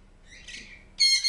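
Pet birds in an indoor bird room let out a harsh, loud squawk, then a shriller piercing call follows close by, both brief and up close with no voices.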